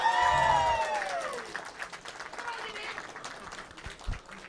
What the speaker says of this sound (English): So a cheer for Eltonus. Let's hear it